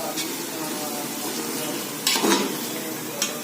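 Masala sautéing in a pot for vegetable biryani, a continuous sizzle of frying with a couple of sharp stirring scrapes and a brief metallic knock, no talk.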